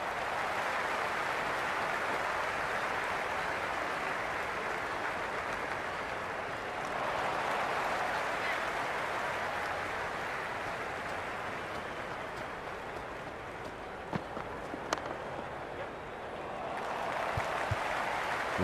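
Crowd applause in the video game Cricket 26 during an England versus New Zealand match, a distant, steady wash of clapping and noise that swells and fades over the stretch.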